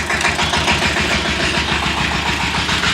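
A parked tractor's engine idles steadily nearby, a loud continuous low rumble with an even mechanical chug throughout.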